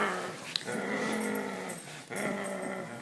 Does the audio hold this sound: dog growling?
yes